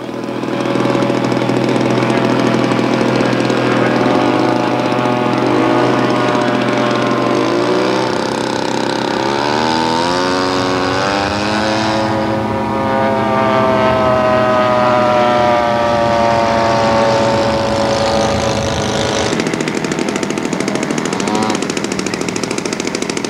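Small scratch-built Westland P-12 tandem-wing model airplane engine buzzing steadily and loudly at a vintage model airplane contest, pitch sweeping up and down as it flies past, with speech over it.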